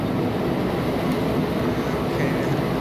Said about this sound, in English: The train has good brakes.